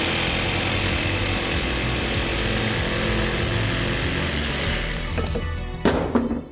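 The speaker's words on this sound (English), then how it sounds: "Best practice is to grab a jigsaw and rough cut your hole first." A jigsaw rough-cuts a subwoofer speaker hole, buzzing loud and steady at close range before the blade slows and stops near the end, followed by a few brief clatters.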